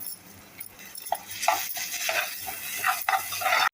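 Onion and tomato fry in a pan with a close sizzle, broken by repeated scraping and clinking of a spoon stirring against the metal.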